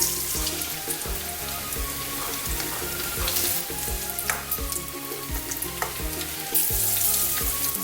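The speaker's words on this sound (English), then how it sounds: "I'll keep on dropping some more. Just drop them with a spoon." Spoonfuls of saltfish fritter batter drop into hot oil over medium heat, setting off a loud, dense, continuous sizzle and bubbling that holds steady throughout, with no talking.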